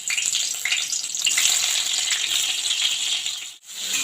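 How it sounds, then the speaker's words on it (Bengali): Pointed gourd dropped into hot oil in a wok sizzles and fries in a steady, loud crackle that holds almost throughout, with one brief dip near the end. "আমার পটলগুলো ভাজার জন্য দিয়ে দিচ্ছি।"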